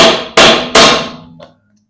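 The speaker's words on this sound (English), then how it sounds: "Grab my hammer here, tap on that thing" Three loud, ringing metallic hammer strikes on a 1939 Ford truck brake part in an even rhythm, each decaying slowly, followed by a fainter clink and then silence.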